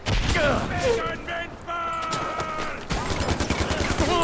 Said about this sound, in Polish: Chyba jakaś bomba nam wybuchła, mi się tak zdaje.